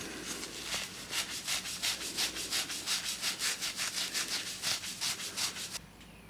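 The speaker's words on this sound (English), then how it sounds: "the Scotch-Brite pad does do a good job of cleaning up the pipe" A Scotch-Brite pad scrubs the end of a copper pipe close up, making about twenty quick, even rasping strokes in a steady back-and-forth rhythm.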